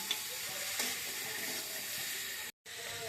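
Bengali spice paste frying with lentil dumplings and a little sugar in a pan, giving a steady, moderately loud sizzling hiss throughout, briefly cut by a short dropout.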